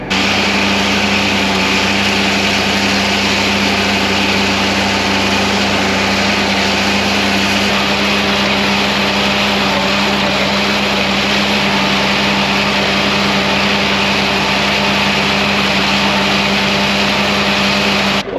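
A tractor pulling a disc mower across a field of reed canary grass runs at a steady, loud drone for the whole stretch. Its tone shifts slightly partway through, and no voices are heard.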